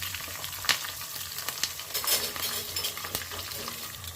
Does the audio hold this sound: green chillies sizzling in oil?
yes